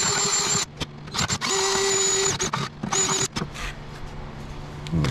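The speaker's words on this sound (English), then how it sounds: "I got a little grinding wheel on the drill." A small grinding wheel spun by a drill works inside a tube to clear a burr while repairing a John Deere 175 mower. The whine comes in several close, loud bursts, stopping and starting between them.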